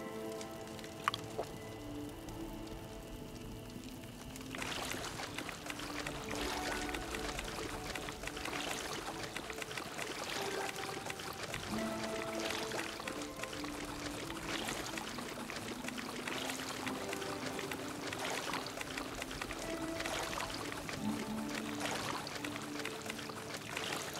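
Water being collected in Fallout 76 pours and splashes steadily for over twenty seconds, a soft continuous rushing and trickling like a stream, fairly quiet and with no voices.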